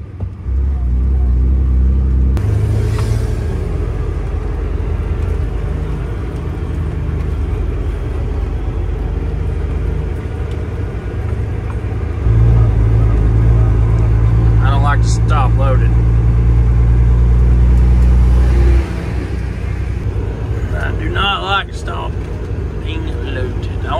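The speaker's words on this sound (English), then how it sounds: "At 18 speed, you can shift through the half gears," A loaded cabover semi truck with an 18-speed transmission, hauling cattle, pulls away easily with a steady heavy engine drone that shifts pitch as it moves through the gears, loud and close, with someone speaking over it.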